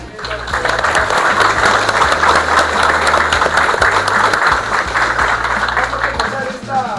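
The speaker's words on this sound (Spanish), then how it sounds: "voy a pedirles como no un fuerte aplauso para ustedes mismos" An audience gives strong applause during a talk on Peruvian football and team management, a loud sustained wash of clapping with a low hum underneath and a voice faintly present.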